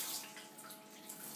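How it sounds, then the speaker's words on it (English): Hot water runs from a bath tap in a steady, faint hiss and splash that continues without a break. "Turn the hot tap on."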